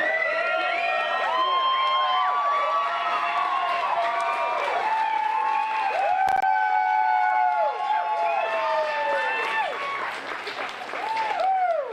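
A crowd at the 2019 Canada Open Boulder Nationals finals applauds the women climbers with sustained clapping, shrill whistles and cheering shouts that carry on steadily throughout.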